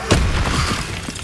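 An Incendio fire spell cast in the Hogwarts Legacy video game bursts out with a sudden whooshing blast, then leaves a short, roaring fiery rush that holds steady before fading slightly.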